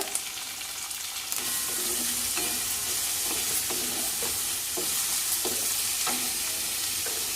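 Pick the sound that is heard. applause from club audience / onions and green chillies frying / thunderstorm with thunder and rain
onions and green chillies frying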